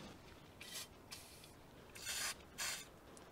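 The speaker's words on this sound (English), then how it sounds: "So first we're gonna spray these bolts in with some WD-40." WD-40 sprayed onto the rear brake caliper bolts of a MINI Cooper R50, four short hissing bursts of aerosol, close and distinct against a quiet background, with no talking.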